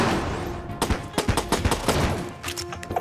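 Sawed-off shotgun fire in the video game Enter the Gungeon, a rapid run of loud, punchy blasts in close succession with brief gaps, layered over continuous game music and effects.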